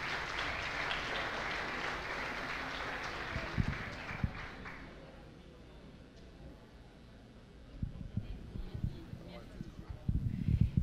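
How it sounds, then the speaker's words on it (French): Audience applause at an Algerian community independence-day celebration, a broad clapping wash at first that fades out, followed by quieter room noise, people talking and scattered handling sounds. "Je pense une bonne main d'applaudissements pour Dr Mehdi Kédid."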